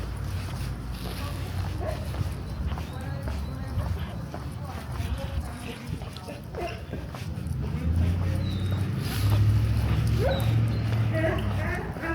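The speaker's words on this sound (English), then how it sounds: "Oh, there's like a big dog behind me." A big dog barking behind a person walking on an East End street at night among Christmas lights, repeated barks and yips over steady outdoor noise, with a person talking at times.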